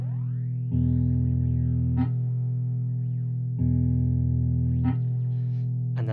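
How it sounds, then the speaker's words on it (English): Electric guitar played through a Chase Bliss Generation Loss pedal set as a sample rate reducer gives two sustained, wavering crushed notes, each swelling in and ringing with a ring-mod-like buzz, with no one talking. "A generation knob here is a sample rate reducer, like an analog bit crusher."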